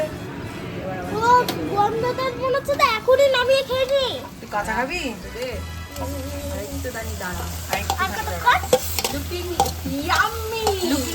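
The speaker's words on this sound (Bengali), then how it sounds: "এবার এটাকে একটু কষাতে হবে ভালো করে" Chicken with spices and green chilies sautés in a pan, giving a steady sizzle broken by stirring scrapes, mostly under people talking nearby.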